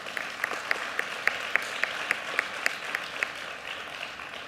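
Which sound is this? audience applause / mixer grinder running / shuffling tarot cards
audience applause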